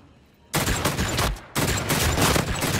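Sustained automatic gunfire from a new weapon in Call of Duty: Infinite Warfare, loud and close, breaking into two long continuous bursts separated by a brief pause.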